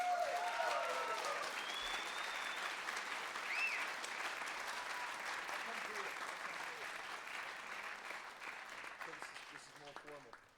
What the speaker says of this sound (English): give him a wonderful applause